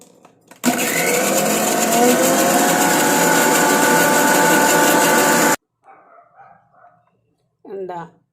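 A kitchen mixer grinds nigella seeds and fenugreek with rice water, a loud steady whirring roar that runs for about five seconds and then cuts off, with a few quiet bumps and a brief voice afterward.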